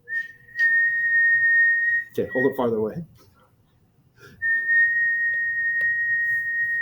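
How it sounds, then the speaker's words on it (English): A person whistles a steady, high sustained note into a microphone for a physics lecture demonstration. The tone is held for about two seconds, breaks for a short spoken instruction, then returns and holds to the end. "Can you whistle? Okay, whistle into that thing."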